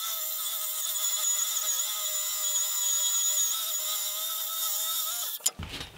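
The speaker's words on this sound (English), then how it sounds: "I'm now going to cut this jaw in half. I'm going to do this at the bandsaw." A bandsaw cuts through a steel drill press vice jaw with a steady, high metallic whine for about five seconds. It ends abruptly with a brief clunk.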